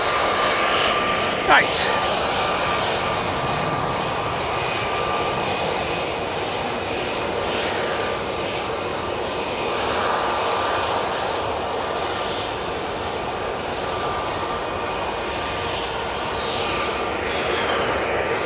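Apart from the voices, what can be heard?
Airbus A320neo jet airliner at Manchester Airport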